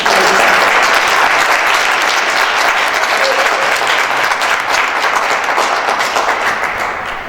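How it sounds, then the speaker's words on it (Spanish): Dense audience applause at a cultural event in a hall, loud and sustained for several seconds, slowly tapering toward the end. "Un aplauso para Jairo."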